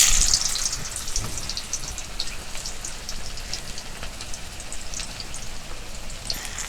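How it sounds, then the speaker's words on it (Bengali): Pieces of jackfruit frying in hot mustard oil in a home kitchen give a steady, close crackling sizzle with dense popping spatter throughout, no voices over it. "তো দেখো তেল গরম হয়ে গিয়েছে, একটা একটা করে ভেজে নেব।"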